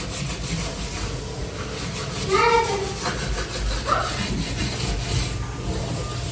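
Someone scrubs a dirty gas stove and its grates with steady, continuous rubbing and scraping. It sounds close and runs under a constant background hiss.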